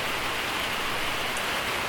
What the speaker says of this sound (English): starting to pour rain